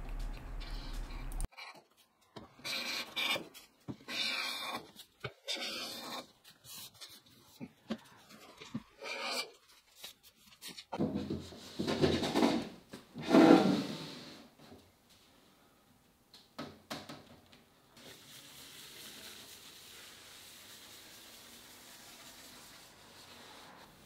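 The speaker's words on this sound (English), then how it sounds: "So when I put the hand plane on there, it will deflect and I won't be able to plane the surface properly." A hand plane worked across timber on a workbench while building a chest of drawers, with repeated rasping strokes and scrapes followed by quieter shuffling handling noises.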